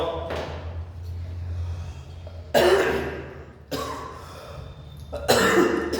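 A man coughing, three harsh bursts spaced a couple of seconds apart, close and loud over a low room hum.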